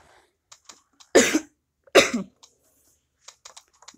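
A person coughs hard twice in close succession, each cough loud and near, with small clicks and faint rustling around them and no talk.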